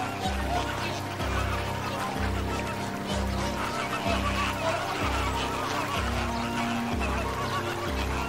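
A large flock of feeding flamingos honking and gabbling together, a dense, loud chorus of goose-like calls in a rhythmic pulsing pattern with no gaps.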